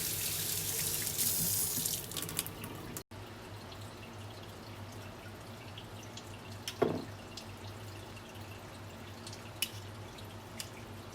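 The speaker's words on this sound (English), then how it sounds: "wash them in hot soapy water." A kitchen sink tap runs steadily into hot soapy water while canning lids are washed, a constant close splashing stream with occasional small clinks and drips.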